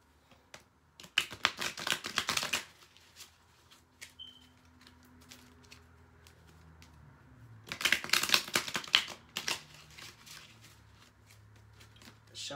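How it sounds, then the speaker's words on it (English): Tarot cards are shuffled in two crisp bursts of rapid riffling and flicking, close and fairly quiet, separated by a pause with faint small handling noises. "Shuffle the cards two more times"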